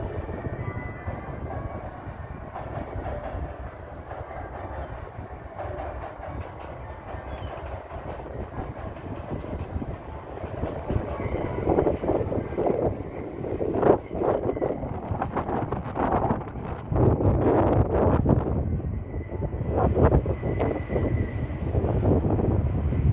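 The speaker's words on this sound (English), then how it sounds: "Train coming into Rochester Station." A train rumbles into Rochester station, its low roar building as wheels clatter and click over the rails, growing louder and busier toward the end with no voices.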